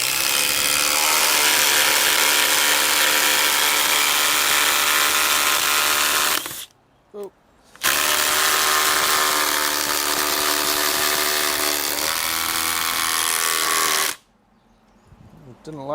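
A DeWalt impact driver hammers a screw into knot-free wood in two long, loud, rattling bursts, each several seconds long, separated by a short pause.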